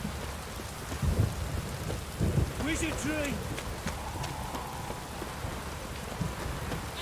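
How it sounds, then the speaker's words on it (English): Heavy rain pouring in The Witcher 3: Wild Hunt, a steady dense hiss with low rumbles, while a voice speaks briefly over it. "This downpour's a bastard"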